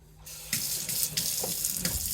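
A kitchen tap turned on after a brief quiet moment, then a loud steady stream of water running into a sink, splashing continuously until the end.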